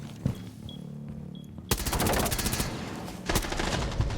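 Gunfire in Rainbow Six Siege during a round. Quiet ambience is broken by a sudden, loud burst of rapid automatic shots, then a brief pause and a second burst close by.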